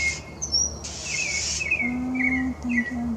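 Mockingbird chirping outdoors on a spring day, a run of bright whistled phrases and short repeated notes, fairly close and clear, with other bird calls and a steady low background hum.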